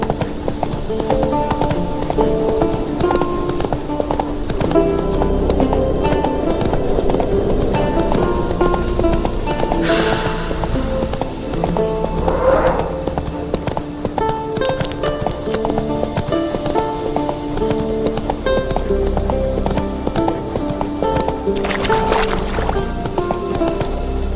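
Horse hooves clip-clop at a steady galloping rhythm in The Witcher 3, loud and continuous over game music and ambience, with a brief whinny partway through.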